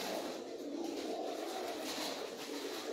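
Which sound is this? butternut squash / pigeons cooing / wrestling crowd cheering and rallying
pigeons cooing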